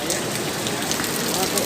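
Water pouring steadily into a cave near Pokhara, a dense, even rush of splashing that holds close and loud without a break.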